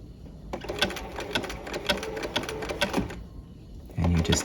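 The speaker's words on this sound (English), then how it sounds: "And you just keep sewing until you join up with the previous row of zigzag." A sewing machine stitching a zigzag narrow roll hem runs in a quick, even burst of close mechanical clatter for a few seconds, then stops before a brief low murmur.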